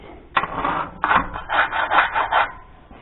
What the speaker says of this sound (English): All I got to do is scrape this up and get it loose